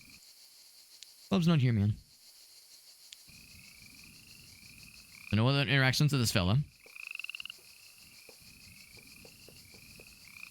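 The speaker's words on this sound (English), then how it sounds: "The noise I'm hearing, I know it's supposed to be like frogs croaking" Video game frogs croaking around a pond: two loud bursts of rapid, rattling croaks with quieter chirps and insect-like ticks in between, while someone talks over the ambience.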